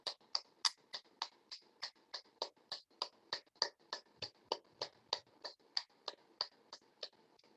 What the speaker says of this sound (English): The 6th module comes with clapping of your hands.